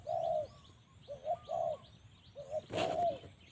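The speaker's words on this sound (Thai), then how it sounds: "นกป่ามาแล้วครับ" A wild bird calls in short repeated coos and chirps, several phrases spaced apart, with a brief rustle near the end and a quiet background.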